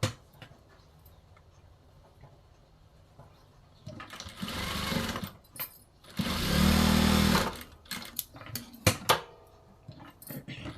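Sewing machine stitching the shoulder seam of a blouse, running in short bursts with a longer loud run midway, close by, amid small handling clatter and quiet pauses.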